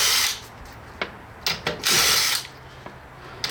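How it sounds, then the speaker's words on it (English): A Ryobi impact driver loosening brake-area wheel bolts on a car, heard as several short bursts of whirring and rattling hammering: a burst at the start, a few brief hits, then a longer loud burst near the middle. "Personally, I use my Ryobi impact driver to take the bolts off really fast."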